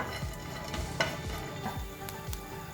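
Coconut slices being dry-roasted and stirred in a pan for chutney, with a steady low sizzle broken by soft scraping strokes and a few faint clinks, no talking.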